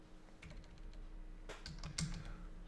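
Rapid keystrokes clatter on a computer keyboard in irregular bursts, with a denser flurry of taps midway; nearby and fairly quiet, no voices.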